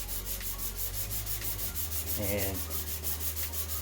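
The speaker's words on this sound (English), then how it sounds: "Then finish sanding it with 320." Steady rhythmic rasping of a sanding block with 320-grit sandpaper rubbed back and forth over body filler in a car engine bay, close up, with a single word spoken briefly.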